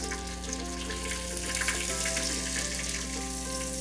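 Carrots, green peas and other vegetables sauté in an Instant Pot with ginger and green chili, giving a steady sizzle. A low constant hum sits underneath, and there is no talk.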